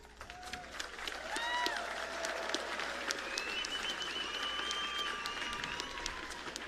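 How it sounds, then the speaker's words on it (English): A crowd at the Pacific Mini Games closing ceremony applauds, a busy spread of claps mixed with whistles and rising tonal calls across the stadium, sounding somewhat distant. "let's honor them with a heartfelt round of applause"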